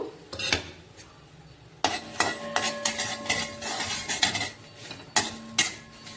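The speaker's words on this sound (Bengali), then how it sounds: "জিরা লঙ্কা তেজপাতা এলাচ দুটো নিয়েছি দারচিনি নিয়েছি তিন টুকরো ভালো করে ভেজে নেব একটু" Whole cumin, dried chilli, bay leaf, two cardamom pods and three pieces of cinnamon fry in a pan, the faint hiss nearly buried under repeated metal clinks and scrapes of a utensil stirring against the pan.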